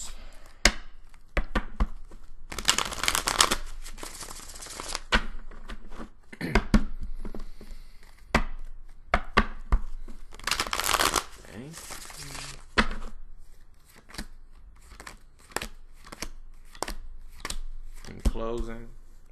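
Tarot cards being shuffled by hand in bursts of dense, close riffling and slapping, alternating with quieter stretches of handling noise and brief pauses, with occasional speech between the shuffles.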